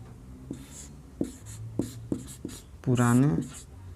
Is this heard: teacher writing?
yes